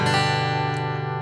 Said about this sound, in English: Give it a strum.